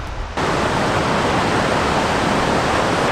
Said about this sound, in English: We are approaching the waterfall.